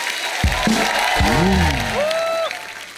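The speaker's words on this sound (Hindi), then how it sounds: "इनके लिए जोरदार तालियां" Studio audience applause at a comedy talk show, a steady wash of clapping and some cheering lasting about two and a half seconds, with a voice over it and musical tones in the background.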